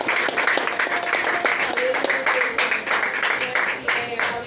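A church congregation claps together in a steady, lively rhythm during worship, loud and continuous, with a few voices rising over the clapping.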